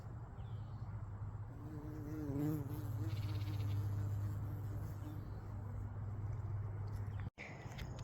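Bees hum steadily around a flowering onion in a garden, a close, continuous buzz with wavering pitch that swells briefly as one passes near, over faint outdoor background.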